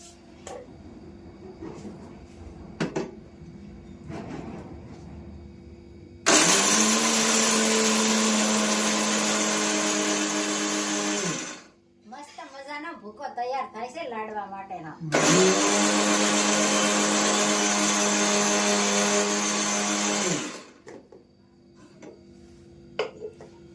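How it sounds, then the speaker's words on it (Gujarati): A kitchen mixer grinder grinds fried bhakri crumbs for ladoo in two loud whirring bursts of several seconds each, with a short pause between them, while quiet clatter and occasional talk come before and after. "ભાખરી તળી એનો ભૂકો લાડવા માટેનો આ ચીણો તૈયાર થઈ ગયો છે ને મિક્સરમાં કરવાનો બાકી"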